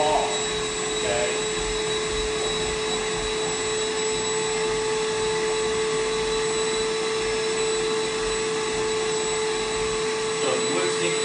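A mini vacuum cleaner runs continuously up close with a steady, high-pitched motor whine and rushing airflow, its filter clogged; a person talks briefly over it.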